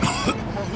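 A man with broken ribs in Mafia II gives a short, harsh cough followed by a strained throat-clearing rasp, close and alone.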